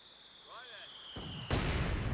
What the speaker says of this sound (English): Mortar landing down there.